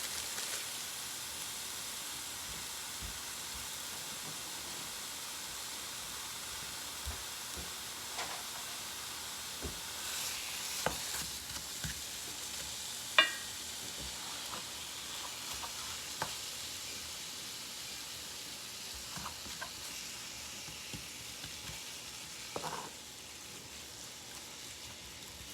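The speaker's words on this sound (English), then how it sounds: "So now we're just going to get our hamburger fried up with our taco seasoning." Hamburger meat browning with taco seasoning in a hot pan gives a low, steady sizzle that runs throughout, broken by scattered scrapes and taps from stirring.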